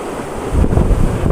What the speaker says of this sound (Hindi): देखें कितना बिखरा हुआ दरिया है और कितना शोर आता है इसके पानी से।